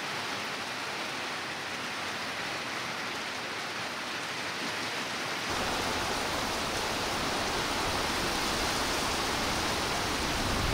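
A heavy rainstorm beats down around a lowered classic Winnebago Brave motorhome, a dense, continuous roar of rain that grows noticeably louder and heavier about halfway through, with no voices.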